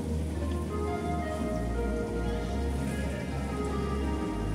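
Onions sizzling and crackling in hot oil in a frying pan where potatoes are frying with salt and turmeric for a chicken curry, a steady dense hiss throughout with no talking.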